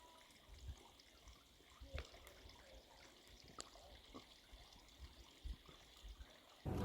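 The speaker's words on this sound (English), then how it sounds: "I listen to the water," Water trickles and drips faintly outdoors, a soft continuous flow broken by small irregular splashes and taps, quiet and fairly close, with a louder bump at the very end.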